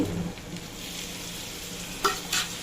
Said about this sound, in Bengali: মশলাটা কষানো হয়ে গেছে এবার আমি মাছটা দিয়ে দেব